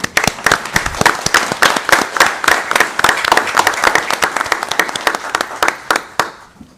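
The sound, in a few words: audience clapping at city council meeting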